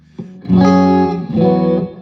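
A sustained electric guitar chord rings out through an amp, struck twice, with a short echo trailing each note, loud and close.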